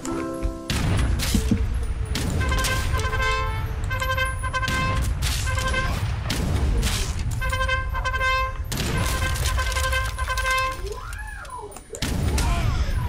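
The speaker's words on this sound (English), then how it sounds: "Hold fire! Prepare to fire!" Musket volleys in Age of Empires 3 crack out repeatedly in dense, loud bursts amid a busy battle soundscape with horn-like tones and chaotic clatter, nearly continuous throughout.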